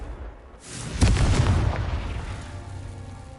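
A Confringo blasting spell detonates in Hogwarts Legacy, a single loud, close boom that bursts suddenly and rolls into a long, fading rumble.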